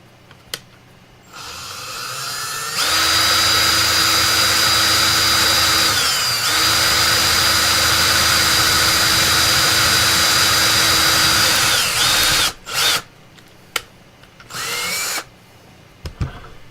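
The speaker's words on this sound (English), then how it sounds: "we're going to drill right into the side of this" A power drill whines steadily for about ten seconds as it bores into material, then stops, followed by a few short bursts and clatters.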